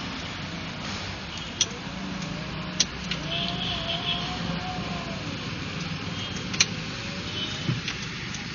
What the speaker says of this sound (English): Sorry for the noisy, because I'm in the traffic.